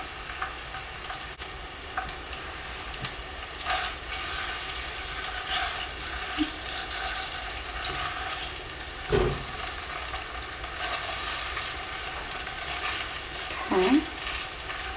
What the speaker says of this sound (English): I'm going to add 2 tablespoons of tomato paste. And we're just going to let that toast for a minute.